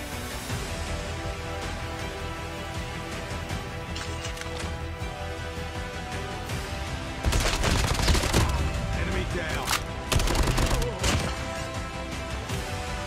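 Call of Duty match with an AK-117 rifle: repeated bursts of gunfire crack over steady game background noise, growing louder and denser in the middle, then fading back to scattered shots.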